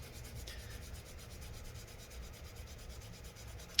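Paper towel rubbing old thermal paste off a laptop CPU, a faint, close, continuous scrubbing and rasping with quick repeated strokes.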